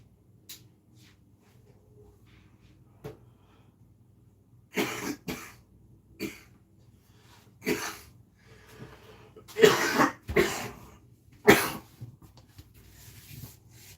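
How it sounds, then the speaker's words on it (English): A man coughs after drawing on a new nicotine-salt vape, a series of sharp, scattered coughs and throat-clearing bursts, several clustered close together, against an otherwise quiet room. "Sometimes them new vapes make me cough a little bit."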